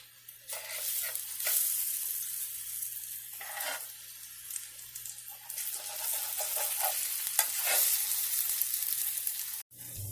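Aloo tikki fry in a pan with a small amount of oil, giving a steady bright sizzle and crackle with occasional spitting pops throughout, close and fairly loud, with no talking.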